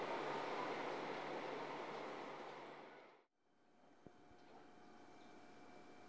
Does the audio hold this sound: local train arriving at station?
yes